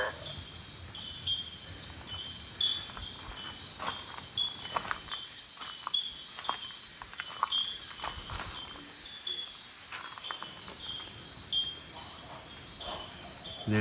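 Little frogs calling beside a garden pool, a steady chorus of thin, high chirps repeating in an even rhythm, with a few louder calls standing out over a soft outdoor background.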